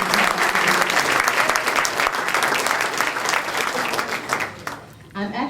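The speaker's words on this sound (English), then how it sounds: "Let's give him a round of applause again for taking the time." An audience at a community gathering applauds a senator, filling the room with loud, continuous clapping that holds for about five seconds, then thins and drops away near the end.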